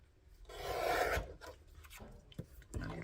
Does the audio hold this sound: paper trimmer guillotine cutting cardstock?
yes